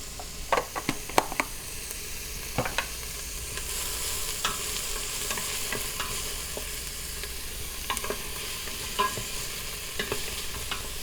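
Large sweet onion frying in grease in an Instant Pot, with a steady soft sizzle and scattered clicks and scrapes of stirring close by.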